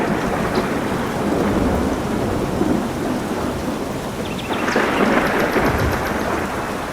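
Steady heavy rain pours down with a low rolling rumble of thunder, and the downpour swells louder partway through; no voices.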